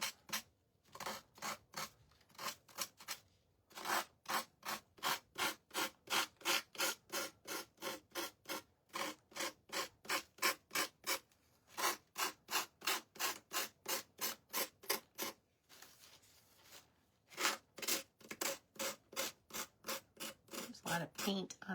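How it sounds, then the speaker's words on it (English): A small sanding block rubs back and forth over a painted wooden gnome sunflower shelf sitter, giving close, steady rasping strokes in rapid rhythmic bursts with brief pauses between runs. "we're going to take our little sanding block and sand off the excess here."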